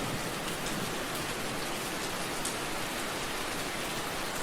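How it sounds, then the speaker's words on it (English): Steady rain falls in a spa setting, a dense continuous hiss of drops on surfaces, even and moderately loud throughout with no voices. "The rain fades,"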